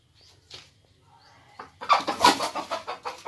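A hen clucking right after laying an egg, close and fairly loud, with a quick run of rhythmic clucks following softer earlier calls.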